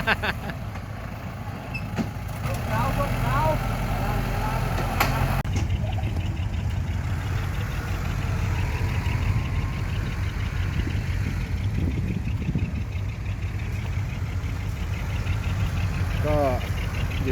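A heavy diesel engine of a Kubota L5018 tractor rumbles steadily at close range as it pushes soil against a house's ground beams, with a brief mechanical clank early on and scattered scraping and clattering throughout.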